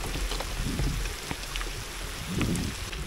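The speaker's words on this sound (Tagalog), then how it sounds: "Thank you Lord sa ulan." Steady rain patters on a fishing boat out on the reef, a dense, continuous hiss with scattered nearby drops and low rumbling beneath, no voices.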